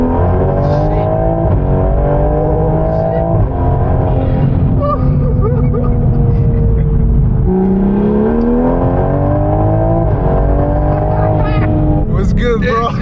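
Toyota Supra accelerating hard to 60, a loud continuous engine roar with rising pitch sweeps through successive gear changes, with people talking excitedly over it throughout.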